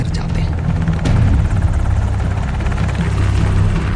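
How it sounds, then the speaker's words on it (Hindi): Two helicopters hovering over a secluded compound in Abbottabad at night, a loud continuous rotor thudding and engine roar filling the whole stretch, with a voice speaking over it. "तभी 2 हेलीकॉप्टर एबटाबाद की इस गुमनाम हवेली के ऊपर आकर ठहर जाते हैं"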